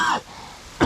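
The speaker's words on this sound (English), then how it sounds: "So about you hear me coughing," A man getting over a cold coughs and clears his throat up close: two rough bursts under a second apart, with soft outdoor background noise between.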